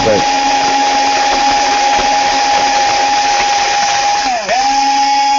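A hand drill boring a hole into a steel model part at a hobby bench, a loud continuous whining drone that holds steady throughout, dipping briefly in pitch once near the end.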